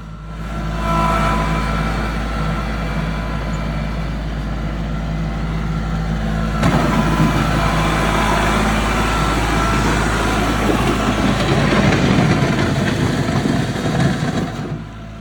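A digging machine's engine runs loud and steady while its bucket smooths out loosened dirt, a continuous close rumble that roughens and grows slightly louder partway through, with no talking.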